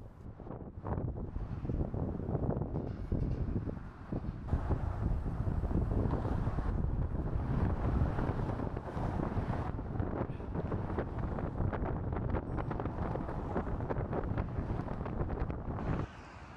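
Strong wind on a San Francisco bridge buffets the microphone in a continuous roaring rumble, loud and steady throughout with gusty swells.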